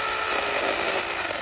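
Cordless battery-powered electric saw cutting through a small tree branch, a loud continuous buzzing whine close up, steady and unbroken for the whole moment.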